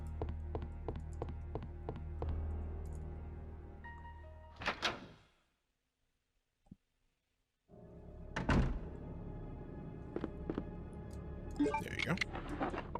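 Shelf opening in Resident Evil 2, a few solid wooden thunks and a brief sliding knock at close range, set against the game's tonal background music, with a silent gap in the middle.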